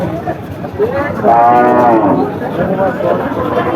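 Cattle at a busy livestock market in Barobazar, with one long, loud moo rising near the middle over a steady crowd murmur and other distant lowing.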